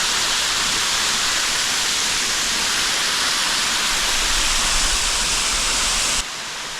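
A jungle waterfall in Karnataka's Western Ghats roars as a loud, continuous rushing wash of water, close and unbroken, with a slight drop in level right at the end.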